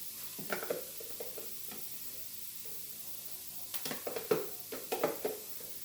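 Garlic, tomatoes and spinach going into a pan of sizzling sausage for farfalle, with steady frying hiss and a few bursts of stirring and scraping, close and fairly loud.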